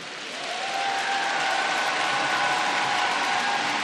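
An arena crowd at a gymnastics apparatus World Cup final applauds a gymnast, a dense, sustained wash of clapping that swells in over the first half second and stays loud and even throughout.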